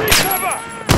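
Gunfire in the Modern Warfare remake video game, a couple of loud sharp bursts near the start and end of a one-second stretch over dense game noise with whooshing effects.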